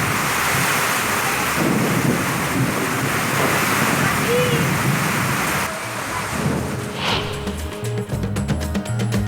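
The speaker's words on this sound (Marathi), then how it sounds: "बीड आणि पुरंदरच्या नीरा परिसरात विजेच्या कडकडाटासह पडला पाऊस." Heavy pre-monsoon rain pours in Beed and the Nira area of Purandar, with deep rolling thunder rumbling beneath the steady downpour before the storm noise thins out and sharper crackles follow.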